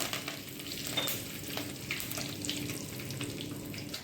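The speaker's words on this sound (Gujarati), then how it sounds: "રાય જીરું તતડી ગયું છે" Mustard seeds and cumin crackle in hot oil for a tempering for Kathiyawadi tadka dal, a steady close sizzle dotted with small pops and scraping stirs, with no talking.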